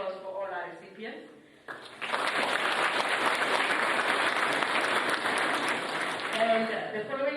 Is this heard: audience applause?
yes